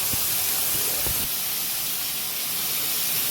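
Chopped bird's eye chillies sauté in a pan for a Kerala mussel roast, a continuous bright sizzling hiss with a few soft scraping stirs early on.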